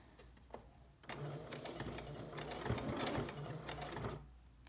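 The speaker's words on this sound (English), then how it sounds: "I'm just going to take my time to sew all the way around" A sewing machine stitches around the edge of a fabric key wrist strap, a steady close mechanical whir running for several seconds between brief quieter moments, without speech.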